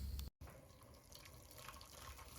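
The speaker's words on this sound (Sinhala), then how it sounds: "මම කලින්ම රත් කරගත්තු උණු වතුර තමයි මේ එකතු කරන්නේ." Hot water is poured into a pan for caramel pudding. A faint, steady stream of running liquid breaks off briefly at the start, then flows on evenly.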